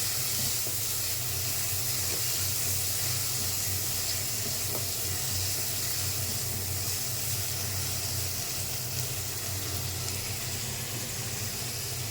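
Mango pieces fry in oil over popped mustard seed tempering for a sour mango dish. A loud, unbroken hiss of frying holds evenly from start to finish with no talking.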